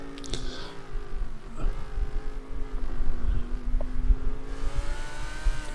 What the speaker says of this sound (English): there goes another GTP car through there.